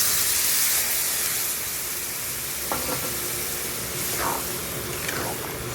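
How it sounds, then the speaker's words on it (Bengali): Water poured into a hot pan of fried spices and prawns for a Bengali prawn chorchori with katoa data, the loud steady sizzle and hiss flaring with bursts of steam and stirring, close up with no talk. "এবারে দিয়ে দিচ্ছি জলটা।"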